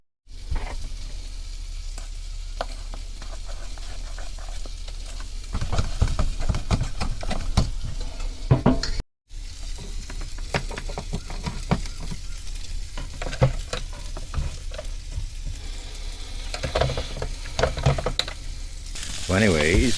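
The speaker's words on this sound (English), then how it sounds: "we're going to have some sausages, and Cindy's frying these up out here in the yard" Breakfast sausages fry outdoors in a yard at a campground, giving a steady close sizzle with occasional stirring clatter and pops, while people talk now and then over it.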